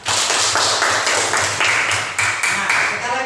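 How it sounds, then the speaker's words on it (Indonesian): A classroom of students claps in a rhythmic, patterned clap, loud and close, with bursts repeating in even groups and no voices on top. "Kita tepuk tangan untuk jawaban kita."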